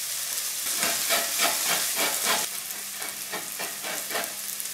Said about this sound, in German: Den Zwiebeln schmoren wir nur kurz an